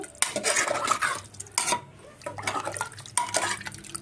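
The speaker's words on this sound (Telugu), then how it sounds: "ఒకసారి కలుపుకుందాము." Mutton curry is stirred in a pot just after water goes in. A metal spoon scrapes and clanks against the vessel in several bursts, with a wet, splashy churning between the strokes.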